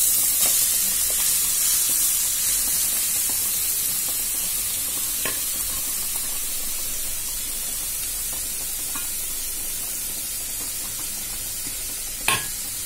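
Finely chopped carrots frying in a pan for gajar halwa, a continuous close hiss and sizzle with soft stirring scrapes and a sharp clink near the end.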